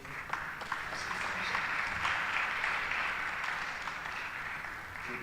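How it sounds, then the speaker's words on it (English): An audience at an East African employability summit and career awards event claps steadily for a speaker coming to the podium, a continuous moderate wash of hands that swells slightly midway. "Let's put our hands together for him."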